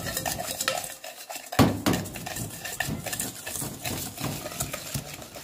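Butter and sugar being beaten together by hand in a bowl for cookie dough, a steady series of close clinking and scraping strokes of a utensil against the bowl with one sharper knock.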